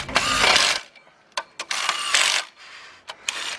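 A ratchet wrench clicks in short bursts while pulling down engine head bolts on a block sealed with JB Weld in place of a cylinder head gasket, loud and close, with a few brief pauses between runs.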